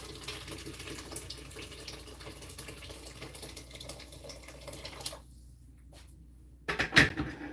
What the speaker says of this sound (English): And put some fresh water in.